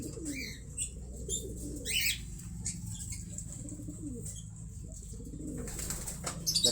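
Racing pigeons coo softly in low, rolling bursts, with scattered chirps and brief wing flaps nearby, steady and close without any talk.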